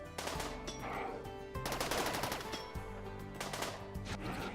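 Rapid video game gunfire rattles continuously in fast automatic bursts at moderate loudness, with no voices heard over it.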